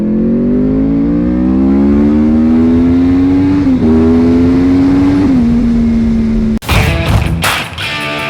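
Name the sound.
motorcycle engine while riding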